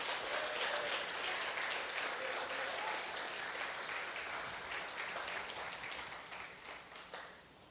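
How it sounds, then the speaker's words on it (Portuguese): A church congregation applauds Jesus during a bishop's sermon, a full wash of clapping from many hands that holds strong before gradually dying down toward the end. "Aplauda Jesus bem forte"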